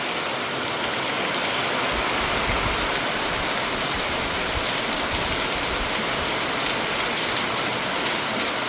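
Morning rain falls on a village in a dense, even hiss of countless drops that stays steady from start to finish, with no voices.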